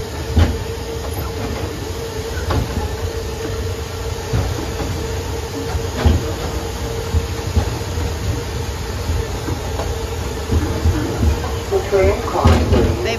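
Sightseer Coca-Cola tram ride in Wildwood Crest: a steady rumbling roll with scattered clacks and rattles, heard from on board, with people talking over it.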